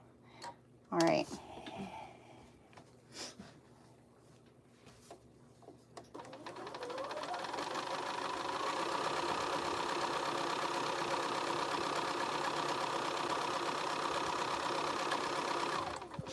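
A home sewing machine starts up after a few quiet handling clicks and stitches fabric in a steady, continuous whir that holds near and even for about ten seconds.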